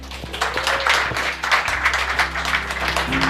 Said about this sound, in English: Everybody give Michael a round of applause.